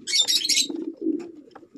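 Racing pigeon of Liberty Line bloodline, bred from Sir Malyari Mulit's birds, gives a low continuous cooing, with brief higher chirps and a burst of bright wing or feather noise at the start.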